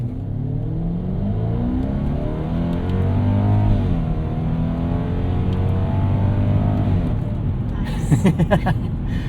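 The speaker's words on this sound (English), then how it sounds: "let's try shifting our gears manually here with the shift buttons" 1998 Lexus GS 400 accelerating hard with gears shifted manually by buttons, the engine note climbing and dropping through several shifts from inside the cabin while someone talks over it.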